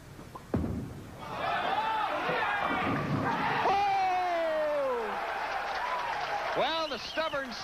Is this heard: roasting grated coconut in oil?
no